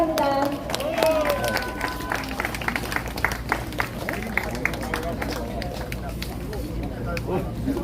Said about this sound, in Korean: 우리 큰 박수로 맞아주시기 바랍니다